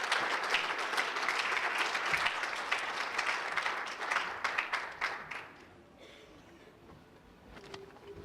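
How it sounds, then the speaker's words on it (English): Audience at a chamber of commerce awards gala applauding the presenter of a Civic Hall of Fame award, dense sustained clapping from a roomful of people that thins out and fades after about five seconds, followed by quiet room sound. "Would you give Ken a nice round of applause?"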